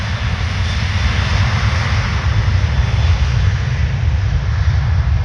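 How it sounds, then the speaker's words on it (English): An Air France Airbus A320 roars with jet engines at full power for takeoff at Orly airport in Paris, a loud, unbroken, heavy rumble with a hissing upper layer, with no voices over it. "No, roaring for takeoff."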